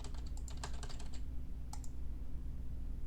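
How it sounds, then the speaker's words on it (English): Rapid burst of gibberish typing on a computer keyboard, dense clicking keystrokes up close for about a second, then a couple of isolated taps over a steady low hum. "Type some gibberish."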